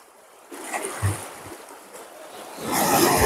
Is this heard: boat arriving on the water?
yes